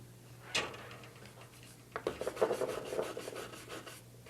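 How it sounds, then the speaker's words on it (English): A brass-bristled brush scrubs brass or copper furniture hardware, giving a run of quick, rhythmic scratchy strokes close up after a single sharp knock, with steady low hum underneath. "If I put this in and scrub, let me try with the brass brush first."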